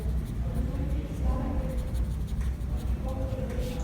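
Marker or chalk writing on a board during an accounting lecture, a soft continuous scratching with short strokes, heard close under a lecturer's steady talk.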